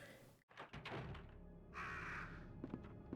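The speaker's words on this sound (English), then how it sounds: "Crows!" Crows caw in the 1998 game Resident Evil 2, a harsh bird call sounding after a dull door thunk amid eerie game ambience, moderately loud and close.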